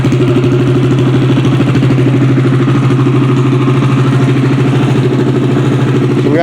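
An engine with no muffler idles close by, a loud, deep, rapid grumbling putter with steady clattering pulses that continues unbroken throughout.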